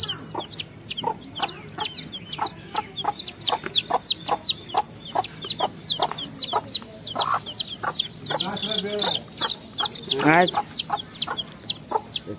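Eight young desi chicken chicks chirp rapidly in sharp, repeated high peeps close by, with occasional soft clucks and brief handling noises as their eyes are given vaccine drops.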